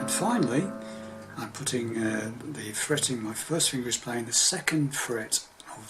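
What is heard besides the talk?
No everyday noise stands out behind the speech.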